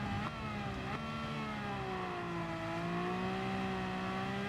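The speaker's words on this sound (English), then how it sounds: "You can hear that gear change just plodding through the box as we change down." A Honda RA272 race car engine in the video game Gran Turismo 7 at Alsace drones steadily and close, its pitch dropping as it shifts down through the gears.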